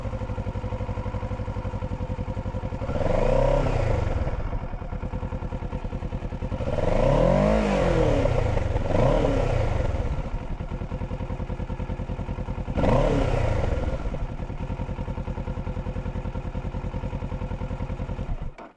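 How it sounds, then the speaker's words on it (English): A 2022 Kawasaki Ninja 650 idles after a warm start with a throbbing exhaust note, close by, with several short revs rising and falling before settling back to idle. "So there you have it, the exhaust note."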